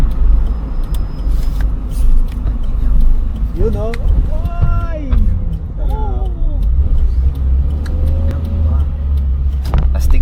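Car interior on a camping trip in Croatia, with a steady engine and road rumble while passengers talk and exclaim over it.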